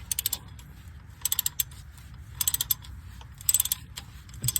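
A 1/2-inch drive ratchet clicks in quick bursts of several sharp ticks, repeated four or five times, while loosening a 14 mm camshaft cover bolt on a 2011-17 Honda Odyssey engine.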